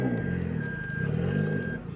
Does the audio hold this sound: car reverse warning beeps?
yes